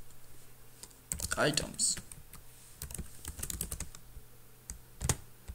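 Someone types code on a computer keyboard in bursts of rapid, close key clicks, with a couple of louder strokes, while a voice talks now and then.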